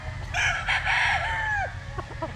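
A gamefowl rooster at a game farm lets out one full, close crow, drawn out and rising before tapering off, followed by a few short clucks.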